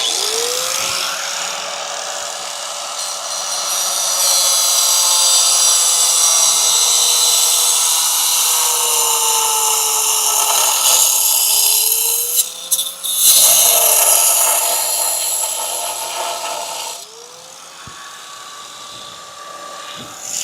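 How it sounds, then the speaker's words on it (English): A worn cut-off wheel on a power tool grinds through a metal bolt, a loud, steady, high whine with rough grinding hiss that rises and dips as the load changes, with brief drops near the end. "let me see if I can finish that cut. Like I'm on my last wheel and it's not cutting very good"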